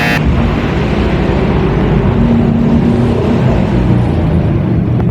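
A Gojek motorcycle taxi rides along under steady acceleration, its engine and road rumble a loud, continuous drone close to the listener with no speech.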